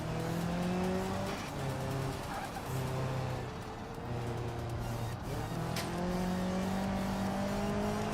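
An RM2 class race car in BeamNG drives hard with a loud, steady engine drone, the pitch climbing and dropping as it shifts and accelerates, heard close and continuous throughout.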